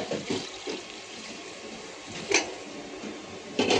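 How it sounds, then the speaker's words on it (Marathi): Hot water poured into veg pulao in a pot, a steady broadband watery rush with a few louder splashy bursts, close and moderately loud with no talk. "ह्याच्यात आपण आता हे पाणी टाकू गरम केलेलं।"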